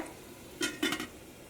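A lid set on a pot of potato and soya chunks curry, two quick close metallic clinks a moment apart over a quiet low background.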